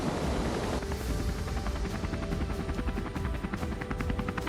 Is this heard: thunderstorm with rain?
no